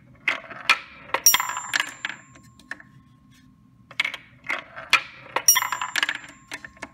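A single marble dropped into a homemade resonant bell chamber, giving sharp clattering impacts followed by bright ringing tones that hang briefly, repeated in two loud bursts separated by a quiet gap.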